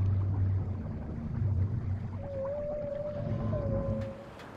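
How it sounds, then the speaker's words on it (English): A whale call in Call of Duty Modern Warfare 2, a drawn-out tonal moan rising and wavering over a low watery rumble, heard alone without speech. "That's a whale."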